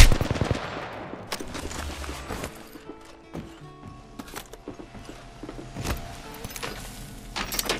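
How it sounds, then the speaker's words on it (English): Gunfire in the video game Apex Legends, a run of sharp, irregular shots and bursts at close range, loud at first and then scattered across the clip with game effects between them. "They're shooting at me."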